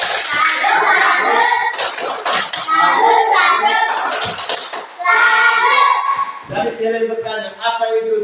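Indonesian schoolchildren chant and clap a rhythmic salute cheer in a classroom, voices and hand claps mixed together in short patterned bursts, loud and close.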